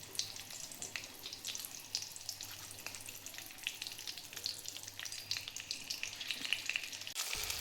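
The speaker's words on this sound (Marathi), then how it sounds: "तेल गरम झाले. मिरची टाकायची." Chillies sizzle in hot oil, giving a close, bright, crackling fry with irregular pops that carries on throughout without talk and swells sharply at the very end.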